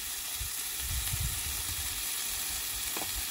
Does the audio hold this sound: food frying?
yes